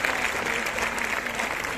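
A crowd applauding during the opening proclamation of the Lerma town festival, a brief, dense burst of clapping that stays level throughout.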